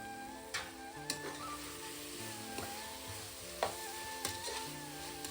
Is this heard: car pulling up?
no